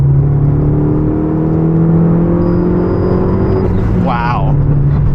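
A Fiat 500 Abarth fitted with a big turbo accelerates hard, its engine droning loud and close with a steadily rising whine, while someone speaks briefly near the end.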